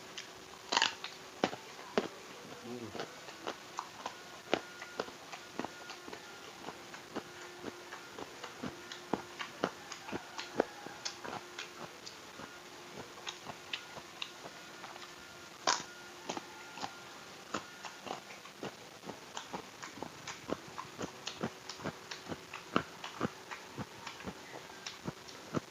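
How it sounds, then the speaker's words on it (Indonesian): Close, crisp crunches of raw papaya in rujak being bitten and chewed, a steady run of sharp crunching clicks throughout, with no talk. "Waktu digigit juga kriuk-kriuk dia pepayanya teman-teman."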